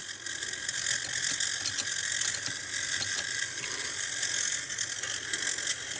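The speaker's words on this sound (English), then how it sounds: "there's just not enough power in that motor to even attempt to get this round." Stellaphone ST450 reel-to-reel tape recorder motor strains against an overtight belt, producing a steady, close mechanical whirring with a faint ratcheting chatter and no speech.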